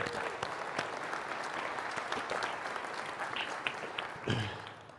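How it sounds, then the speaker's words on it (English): Audience applause at the WWHF Deadwood 2022 security conference: dense, steady clapping from a crowd that stays loud and even throughout, with a slight swell near the end. "let's give a round of applause for them for what they do"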